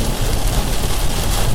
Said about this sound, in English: The wind just really picked up.